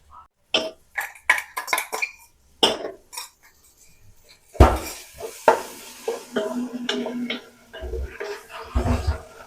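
Chilli, ginger and garlic paste fried in a pan for chicken curry, with close clinks and scrapes of a utensil, a low sizzle building, and a few coughs or voice sounds.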